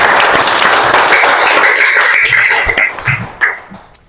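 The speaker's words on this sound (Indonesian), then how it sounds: "Oke, tepuk tangan." Classroom applause, a dense burst of many hands clapping that thins into a few scattered claps and fades out over about four seconds.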